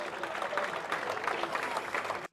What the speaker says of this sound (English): Fully deserved of that applause.